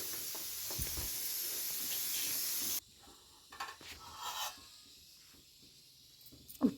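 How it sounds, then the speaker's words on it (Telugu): Curry stirred with salt in a pan: a steady sizzling hiss cuts off abruptly, then comes quieter scraping and stirring with faint clinks and a sharp knock at the end. "ఉప్పు వేసి బాగా కలుపుతున్నానండి"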